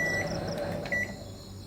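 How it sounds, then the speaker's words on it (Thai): A microwave oven, recently checked for not heating, finishes a 30-second run and is opened. A steady, loud hum is broken by a few short electronic beeps. "หลังจากครบ 30 วิเราก็ทำการเปิดตู้ไมโครเวฟดูนะครับ"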